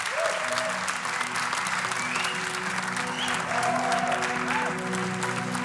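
A studio audience claps steadily and loudly for several seconds after a show with a musician, the dense applause running throughout with faint tonal sounds underneath.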